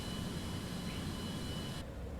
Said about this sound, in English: And now we're going to taxi to the runway just over yonder right there